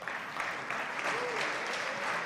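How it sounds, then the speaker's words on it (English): A conference audience at a summit stage applauds for a speaker, a steady, moderately distant wash of clapping that holds evenly throughout. "Big applause for Sonia, please."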